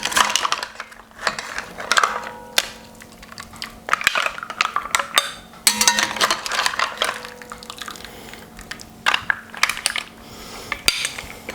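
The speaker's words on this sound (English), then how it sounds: "with my slotted spoon, I'm just going to put them into the bowls" A slotted spoon clinks and scrapes against bowls as cooked spicy mussels are piled in, a series of close, irregular metallic taps and rattles with no talking.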